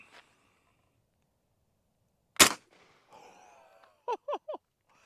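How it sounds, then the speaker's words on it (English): A single rifle shot fires a rare round into a block of meat, one sharp loud crack standing alone, followed by a faint ringing tail and three quick clicks. "Here we go, firing at my meat."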